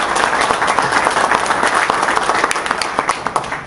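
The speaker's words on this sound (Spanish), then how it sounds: "un aplauso para él por favor y gracias Luis" Audience at a structural design seminar applauding speaker Luis, a loud, dense wash of many hands clapping throughout, steady without speech.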